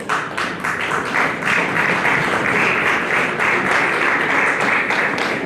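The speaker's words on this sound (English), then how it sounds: "Let's give him a big round of applause." A crowd at a ConnectEO and CONTRALESA event breaks into loud, sustained applause, with many hands clapping densely and evenly close by.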